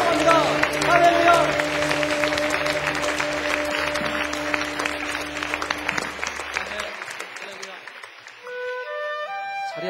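A church congregation claps in praise at a Friday worship gathering in Seoul, a dense wash of hands under sustained organ or keyboard chords and singing voices, the clapping thinning toward the end as music continues.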